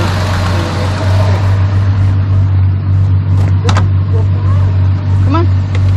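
A barn-find 1973 Dodge Dart Swinger engine runs with a loud, steady low rumble up close, punctuated by a few brief clanks, while people talk over it.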